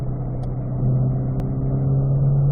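A C8 Corvette accelerating up through the gears toward fourth on a hillside stretch of a racetrack, its engine a steady, loud droning hum that swells slightly partway through, heard from inside with no talking.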